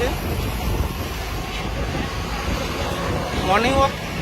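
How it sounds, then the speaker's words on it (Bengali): Wind blowing outdoors beside a roadside where lorries pass, a steady low buffeting rumble across the microphone, with a faint passing tonal engine-like whine near the end. "হাওয়া দিচ্ছে এখানে"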